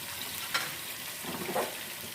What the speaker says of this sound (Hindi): तमाम खड़े मसालों को हम फ्राई कर लेते हैं चिकन और प्याज के साथ ही।